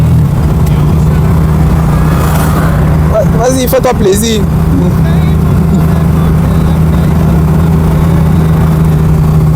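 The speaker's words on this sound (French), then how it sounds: "C'est vrai que le moteur est assez bruyant." A 1965 Mercedes S-Class engine hums steadily and low while the car drives, and a voice speaks briefly over it.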